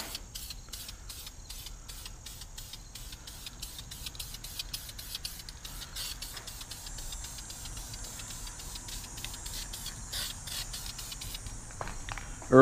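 Spray cans hiss out a first coat of paint onto wheels in short repeated bursts, fairly faint and steady in rhythm, with no talking.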